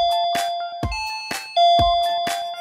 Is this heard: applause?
no